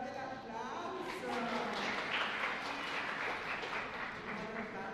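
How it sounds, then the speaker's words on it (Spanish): A congregation at a parish Mass claps along, a soft, steady patter of many hands that is fairly faint and mixed with voices and a low background hum. "Fuerte el aplauso."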